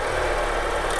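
Zeekr 8X plug-in hybrid with a 2-litre turbo engine, cover off, starting up and settling into a steady idle, with a constant close low rumble and no talk.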